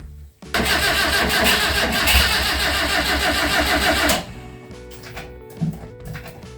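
An FSO car engine at a meet of old Polish cars cranks and starts with a loud, close churning. After about four seconds it drops away to quieter background sounds.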